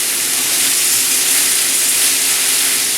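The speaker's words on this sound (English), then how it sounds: "this will start sizzling and cooking so quickly" Steady, loud sizzling hiss from meat frying in a small hot pan, continuous with no pauses or voices.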